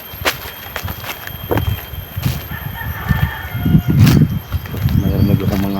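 Chickens cluck and a rooster crows in a farmyard, close and fairly loud, with repeated bursts and a rising crow toward the end, while a person speaks nearby.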